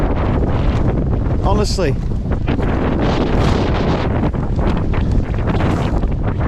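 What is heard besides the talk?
strong wind at a night wild camp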